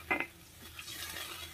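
A spoon stirs chicken masala frying in a pan as a little water goes in, giving a brief clatter followed by a soft, steady sizzle and scrape, close by with no voices.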